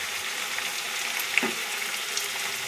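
Chicken sautéing in oil for chicken kasha gives a faint, steady sizzle throughout, with one small click partway through.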